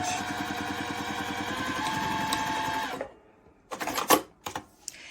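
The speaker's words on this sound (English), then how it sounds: "Front forward stitch, back stitch a couple" A sewing machine runs steadily for about three seconds, stitching quilt binding with a fast, even mechanical rattle, then stops. A few short handling clicks and rustles follow.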